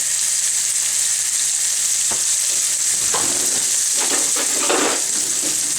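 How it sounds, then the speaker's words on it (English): Pork chops sizzle loudly in a frying pan, a constant crackling hiss with occasional louder pops and scraping stirs. "Okay, we're back to the frying pan."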